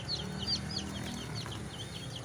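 Six-day-old turkey poults peep in repeated thin, high chirps over a low steady background hum, fairly close and with no talking.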